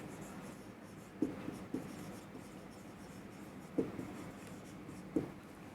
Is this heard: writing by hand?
yes